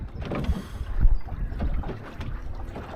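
A Drascombe Lugger sailboat moving briskly through water close to the wind, with a steady rush of wind and water noise, occasional low thumps of hull against waves, and a constant blustery background.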